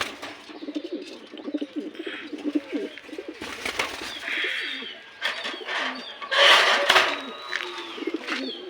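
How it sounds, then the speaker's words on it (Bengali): German Shield and boot-beaked pigeons in a loft, a red hen and a yellow cock, coo in repeated low rolling calls, with other birds chirping faintly and a few brief louder rustles nearby. "কবুতরটা একটু ভালো করে দেখাই দেয়।"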